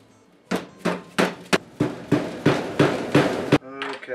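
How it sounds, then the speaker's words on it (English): Regular, solid thuds as a rubber mallet taps a rubber seal into a power steering cylinder from a 1965 Mustang Fastback, about nine evenly spaced knocks close up, with no talking. "Go ahead and hit it with the rubber mallet."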